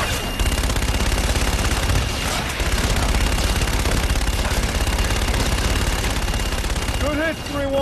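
Sustained automatic gunfire in Call of Duty: Infinite Warfare, loud rapid bursts rattling nearly nonstop, then cutting out near the end as electronic chirps take over.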